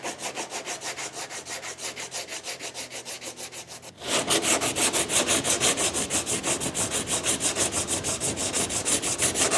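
Rhythmic back-and-forth hand sanding on the fiberglass cab roof of a John Deere 3520 tractor, close and steady strokes that grow louder and coarser partway through, with no talk.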